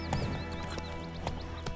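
In The Witcher 3, the horse Roach's hooves beat under a sustained musical score with melodic whistling tones, a short burst of rhythmic thuds in a game scene.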